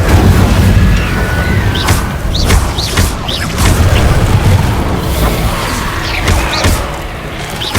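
Fire spells, including Incendio, are cast during combat in the Hogwarts Legacy video game, producing a rapid series of loud booming blasts and thuds with whooshing bursts, dense and close throughout.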